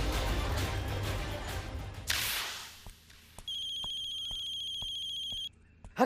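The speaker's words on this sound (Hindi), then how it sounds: "सुधाकर को ही फोन करता हूँ।" A telephone rings with a steady electronic tone for a couple of seconds after a burst of road noise, then stops abruptly.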